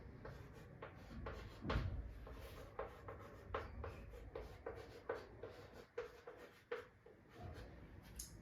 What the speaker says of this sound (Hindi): मैं आपको लिख देती हूँ।